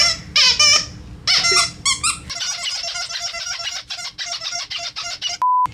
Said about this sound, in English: You got different squeaks.